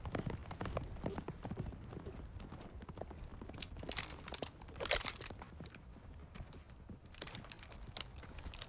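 Horse hooves clip-clopping at a walk, a steady run of crisp irregular knocks mixed with faint crunching, fairly quiet and close with no talking.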